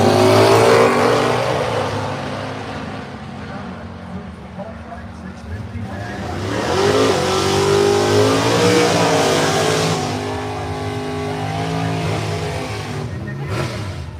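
A 1975 Chevrolet Vega drag car, number 461, races down the strip at Bradenton Motorsports Park, its engine roaring loud and steady, rising in a second surge, with announcer talk over it.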